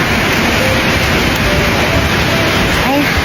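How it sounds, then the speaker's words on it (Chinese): Heavy rain pours down steadily at a truck loading yard, a dense, loud, unbroken hiss throughout with no clear voices. "这雨下的哗哗的"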